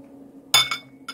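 A glass of water is handled for a drink, making a sharp clink followed by a fainter second knock and a small tap against a quiet background.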